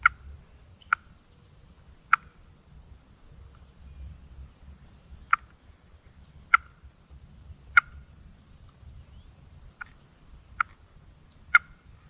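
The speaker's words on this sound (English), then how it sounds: "I pick up my box call and make a few clucks" A wooden turkey box call gives about nine sharp, isolated clucks spaced irregularly around a second apart, crisp and fairly close over a quiet outdoor background during a youth spring turkey hunt.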